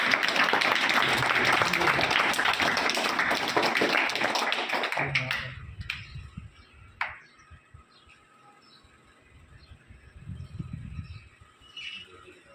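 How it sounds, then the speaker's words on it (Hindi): Loud, dense clapping from an audience at a Ramdev Public Senior Secondary School function in Sindhari, Balotra, lasting about five seconds before dying away into quieter scattered sounds. "जोरदार तालियों के साथ स्वागत"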